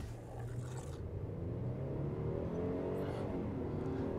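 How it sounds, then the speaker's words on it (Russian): A 2019 Kia K900 accelerates with a rising, strained engine drone that climbs steadily in pitch, heard from inside the car at moderate volume with no talk. "Как бы прям очень тяжело машина разгоняется."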